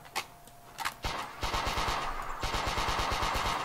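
Rapid automatic gunfire from a third-person shooter video game, a few short bursts at first, then a sustained, steady stream of loud shots with no talking.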